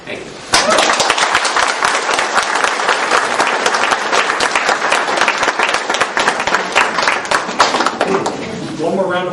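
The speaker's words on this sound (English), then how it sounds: "One more round of applause for all the candidates." Loud, dense applause from an audience at a political candidates' event in Newtown, Connecticut, starting abruptly and sustained as steady clapping, with a voice beginning to speak faintly near the end.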